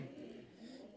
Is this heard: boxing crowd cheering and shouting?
no